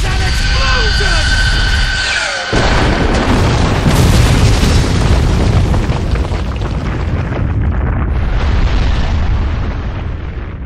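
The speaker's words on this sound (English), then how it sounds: "Because my art is an explosion!" A big explosion booms out during a story-mode cutscene of Naruto Ultimate Ninja Storm 2, a loud sustained blast with rumbling debris that slowly fades, after a short tonal passage.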